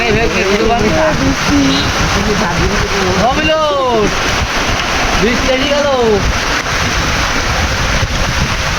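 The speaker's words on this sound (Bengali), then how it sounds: "দেখতে পাচ্ছেন আপনারা এত বৃষ্টি হচ্ছে" Heavy rain pours down on someone standing beneath a palm tree, a dense, steady hiss with gusty rumble across the whole stretch, while a voice talks over it.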